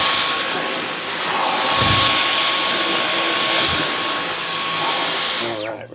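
A Dyson V11 Extra cordless vacuum cleaner runs on carpet with a loud, steady high-pitched motor whine and airy suction roar that swells slightly as the head moves, then winds down at the end.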